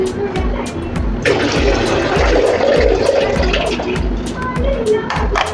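Moong dal for chakli is washed under running water, a steady splashing stream close by, with water sloshing over the lentils and small knocks against the vessel throughout.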